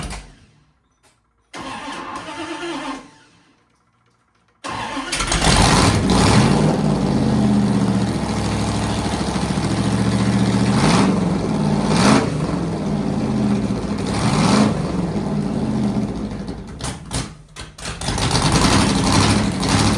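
A 318 Magnum V8 cranks briefly, falls silent, then fires up and runs loud and close, with repeated throttle blips rising above a rough idle for the rest of the clip.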